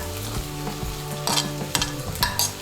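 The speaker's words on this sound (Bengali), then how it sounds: "এখন আমি এর মধ্যে দিয়ে দেবো গাজর কুচি।" Chopped carrot fries in a pan for spiced semolina with winter vegetables, a close, continuous sizzle with clinks and scrapes of a spoon stirring against the pan, no talking.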